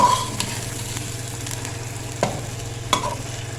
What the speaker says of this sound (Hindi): जब तक हमारा चिकन जो है वो फ्राई हो रहा है अदरक लहसुन के साथ